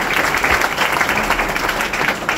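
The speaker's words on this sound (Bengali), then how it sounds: "স্যারের জন্য সবাই একটা মিষ্টি করতালি দিবেন।" An audience at a formal stage event gives a round of applause, sustained dense clapping from many hands that stays loud and steady from start to finish.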